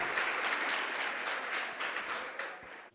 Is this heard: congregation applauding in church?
yes